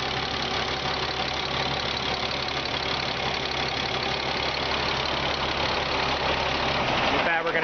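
A big truck engine idles steadily with a deep, even rumble, close by and loud, cutting off abruptly near the end.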